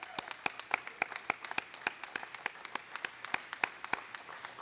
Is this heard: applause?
yes